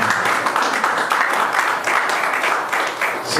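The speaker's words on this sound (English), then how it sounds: "We can clap, you know." A live audience applauds during a memorial tribute event, with dense, steady clapping from many hands continuing at an even, fairly loud level throughout.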